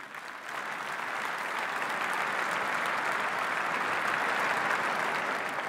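Sustained applause from an awards ceremony audience, dense and even, swelling in over the first half-second and holding steady at moderate loudness throughout, with no voices over it.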